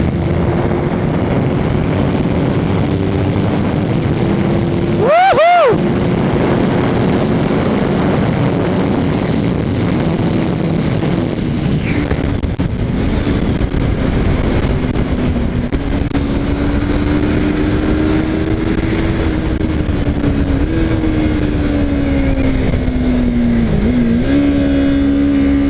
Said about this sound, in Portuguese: olha aí, R3 nova pra vocês